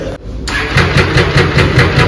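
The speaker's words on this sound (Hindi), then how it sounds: "अभी स्टार्ट होने वाली है MV सुपर वॉलिक।" An MV Agusta superbike engine cranks and catches, settling into a loud, close, throbbing idle with a steady pulsing beat after a brief pause; no one speaks.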